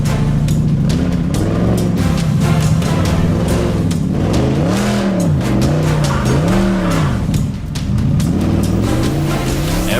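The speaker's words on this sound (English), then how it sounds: "Icy roads, sudden slides, and unpredictable moments turn simple drives into something entirely different" A car slides on an icy road, engine revving in rising and falling swoops under continuous loud tyre and road noise, close and sustained throughout.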